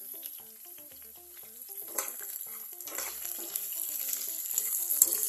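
Oil sizzling in a pan while idly upma is being made, with crackle and occasional stirring clinks. The sound is moderately faint at first and grows busier and louder toward the end, with no talking.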